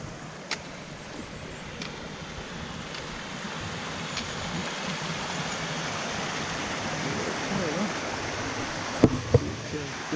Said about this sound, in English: We'll have a look at the stream over here. Bit of a forest stream.